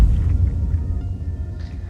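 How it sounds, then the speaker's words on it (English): A designed exploding strawberries sound effect passed through a low pass filter gives a muffled, throbbing low rumble of soft squelchy pulses, steady and close with no voices. "we'll get a great sound for exploding strawberries."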